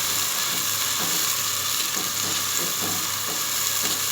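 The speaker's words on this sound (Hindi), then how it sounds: "अब स्पून से हम स्टीयर करेंगे।" Food sizzles and fries steadily in a pan while a spoon stirs it, with soft periodic scraping strokes under the constant loud hiss; onions are being browned for a potato dish.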